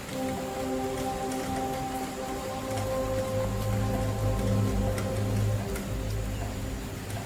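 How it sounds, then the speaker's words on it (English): A heavy rainy-season downpour on the African savannah makes a steady, even pattering that lasts throughout, with a low sustained hum beneath it and no talk. "The rainy season, with its intense downpours, brings life to the savannah."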